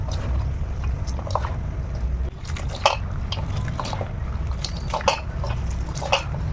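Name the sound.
kneading salted ash gourd pieces by hand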